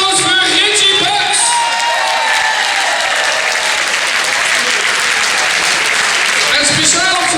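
At a Limburg carnival song contest prize announcement, an audience applauds the winner with loud, sustained, dense clapping mixed with crowd voices and cheers, swelling briefly near the end.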